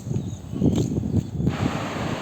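Low rumbling gusts of cool wind buffet the microphone in the evening, with a faint rustle underneath, continuous throughout.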